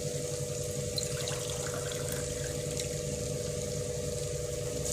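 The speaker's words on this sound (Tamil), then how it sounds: "இப்போது நம்ம தண்ணி ஊற்றிக்கிறோம்" Water is poured into a pot for one-pot rice with ivy gourd, soaked dal and sautéed ingredients; a steady, even pour and splash runs the whole time at moderate loudness, with a low hum underneath and no talk.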